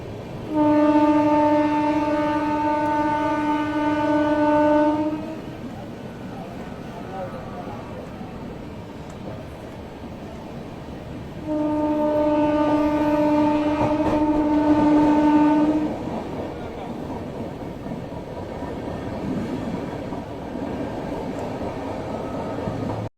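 A train rumbles past with two long blasts of its horn, the clatter of wagons continuing steadily between and after them.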